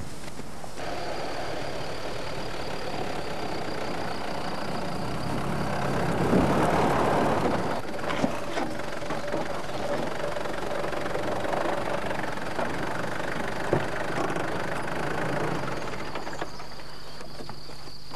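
A Mitsubishi 4x4 engine drones steadily as the vehicle climbs a slope, rising to a fuller roar midway before settling back to an even rumble, with faint insect chirps behind it.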